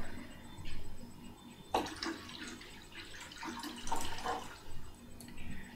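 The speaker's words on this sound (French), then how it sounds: "puis donc tu peux verser l'eau dedans" Water poured into a wide bowl, set out beside a candle for wax divination; soft splashing and trickling comes in several bursts, quiet and close, with no talking.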